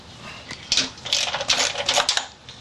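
A 10mm bolt on a car's stock air intake is loosened with a hand tool, giving bursts of rapid metallic ratcheting clicks close up, grouped in short runs with brief pauses and no voices.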